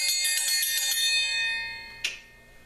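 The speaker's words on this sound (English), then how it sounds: "dinner triangles, whatever you call them." A hand-forged steel dinner triangle is struck repeatedly in a fast bright rolling ring that fades into a sustained metallic shimmer, followed by one more sharp strike that rings out on its own.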